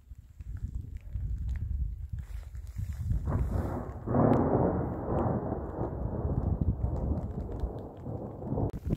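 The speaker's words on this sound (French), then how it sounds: "Là il pleut bien, de grosses gouttes." Heavy rain with big drops in the mountains near the Cirque de Gavarnie, a low rumbling patter that thickens midway into a loud, continuous downpour close by.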